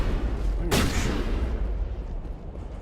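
A single gunshot blast from a weapon in Mass Effect Legendary Edition, a loud sharp crack with a short decay, over a constant low rumble of game background noise.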